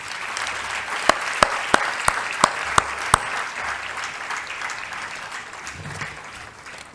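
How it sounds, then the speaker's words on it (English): Audience applause at a graduation ceremony, a steady wash of crowd clapping with one nearby person's sharp, evenly spaced claps standing out early, then settling into a softer continuous patter. "Could we give them a round of applause as well?"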